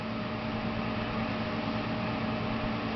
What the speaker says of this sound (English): an air purifier, air filter